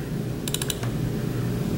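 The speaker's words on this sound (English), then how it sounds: "Now I can start typing things." A short burst of four or five light clicks from computer keystrokes over steady background hum, close but fairly quiet, with no talking.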